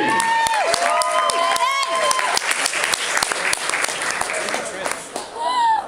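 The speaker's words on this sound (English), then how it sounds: "A round of applause for Eddie N., the comedian." Lively audience applause and cheering for a comedian at an outdoor fiesta, with loud clapping, whoops and shouts from a crowd, fading toward the end.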